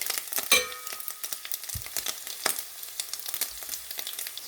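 Breakfast potatoes and ham frying in a pan, a close continuous crackling sizzle with dense popping, one sharp clank of a utensil near the start.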